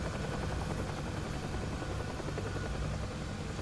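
A Bell UH-1 Huey helicopter in the DCS flight simulator flies with a dense, continuous rotor and turbine roar at steady loudness, heard from inside, with no voices.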